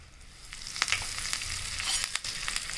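Curry leaves and chana dal sizzle in hot oil for tempering a medu vada chutney, a steady close frying hiss with sharper crackling pops scattered through it, no voices.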